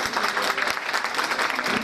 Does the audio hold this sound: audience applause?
yes